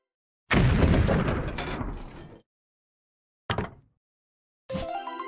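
Toy cannon firing effect: a loud, near burst of noisy rumble about two seconds long that slowly fades, followed by two short electronic sound bursts after a pause.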